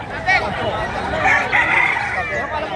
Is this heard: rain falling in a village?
no